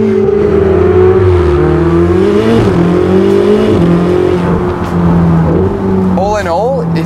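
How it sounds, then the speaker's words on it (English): Twin-turbo engine of a 2016 Ferrari 488 GTB pulling hard, a loud continuous drone that climbs and dips in pitch through gear changes, heard close throughout with a voice talking over it. "The relentless power that you get from the twin turbo is just plain addictive"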